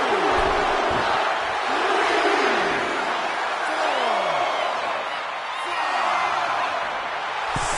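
Arena crowd in the WWE 2K26 wrestling game during a women's Stages of Hell match, a steady roaring, cheering wash with swells, under continuous commentary.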